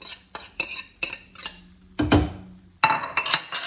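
Onions tipped into a pan of cooking pork for soft tacos, giving a string of close metallic clinks and utensil scrapes against the pan, then a louder rustling clatter as the onions go in and get stirred.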